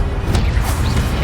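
A short fiery Incendio spell cast in the Hogwarts Legacy video game gives a dense, roaring whoosh with crackling bursts, loud and continuous over about a second.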